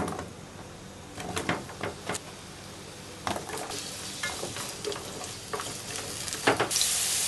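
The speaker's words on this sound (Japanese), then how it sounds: "油を敷いて人参を入れていきます。" Carrots frying in oil in a pot, a soft steady sizzle with scattered clinks and stirring scrapes, fairly quiet and close, no talking.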